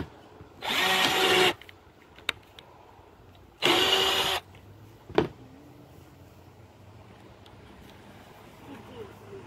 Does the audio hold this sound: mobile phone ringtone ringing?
no